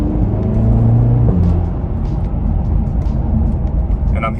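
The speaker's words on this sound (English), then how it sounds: "And I'm hearing more and more now the what's it called? The intake." An Audi TT engine drones and rumbles from inside the car, a steady low intake hum with a brief rise early on before settling into a constant whooshing cabin roar.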